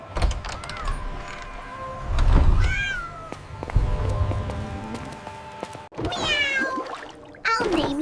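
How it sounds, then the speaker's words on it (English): A kitten meows repeatedly in short, high-pitched calls, close and fairly loud, alongside other cartoonish voices and light bumps. "Meow. Meow."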